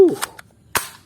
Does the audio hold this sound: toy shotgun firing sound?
yes